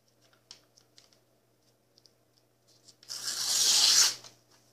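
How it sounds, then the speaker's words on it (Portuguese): Scissors cutting a sheet of paper into a square to fold into a shuriken: a few faint snips and rustles, then a louder, sustained crisp cut lasting about a second, close by. "vai cortar certinho aqui para formar um quadrado"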